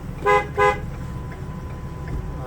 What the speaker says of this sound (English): Check the horn.